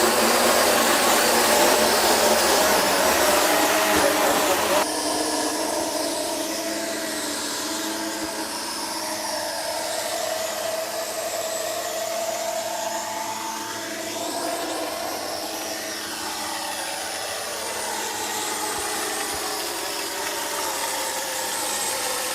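An Air Hogs Millennium Falcon XL drone flies indoors with a steady, loud, whining motor drone and chattering rotors, and the pitch shifts slightly throughout.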